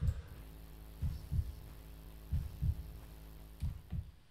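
Heartbeat pounding in a scary video game, paired thumps repeating in a slow steady rhythm over a quiet low hum, with no talking.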